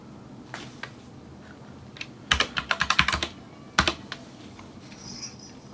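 Typing on a computer keyboard during setup of a newly built Ryzen 2600 and RTX 3060 PC, with a few isolated keystrokes followed by a quick burst of clicks and a final tap, close and clear.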